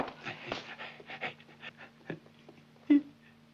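A dog panting close by, quick rhythmic breaths with a faint whimper near the end over a low steady hum.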